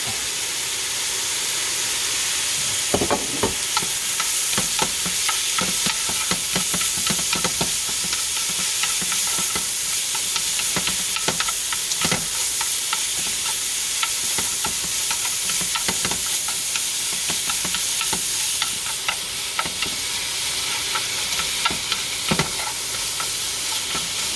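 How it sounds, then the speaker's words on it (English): Meat and onion stir-fry in a hot pan with a loud, constant hiss and sizzle. Sharp scrapes and clacks of stirring run through it. "put the other meat in, and put the onion in, so we get a nice caramelized onion"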